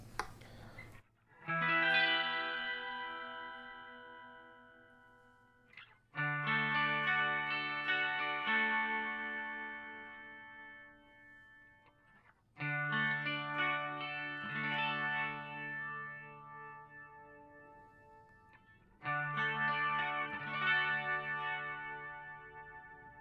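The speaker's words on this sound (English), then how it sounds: "The next mode is their style of a Leslie kind of sound." Electric guitar chords through a Boss MO-2 pedal in Leslie-style mode ring out in four separate phrases, each swirling and wobbling with a rotating-speaker modulation effect, separated by short pauses.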